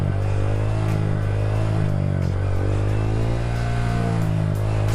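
Honda GROM motorcycle engine held during a wheelie, a loud close continuous drone with the revs rising and dipping slightly as the throttle is adjusted, no talk over it.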